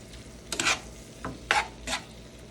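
Cooked angel hair pasta warming in shrimp scampi sauce in a pan, with a low sizzle beneath a few quick, close stirring and tossing scrapes.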